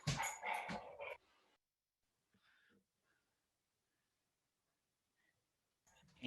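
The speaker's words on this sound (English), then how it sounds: "My dogs are playing behind me, so I'm gonna mute" Dogs playing indoors bark in a loud, close flurry at the start, fall quiet with a few soft yips in the middle, then bark again at the end.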